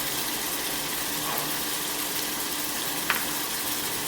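Six or seven chopped green chillies roast in a pan with ginger-garlic powder and chaat masala, producing a continuous, even hiss of frying with one small pop partway through.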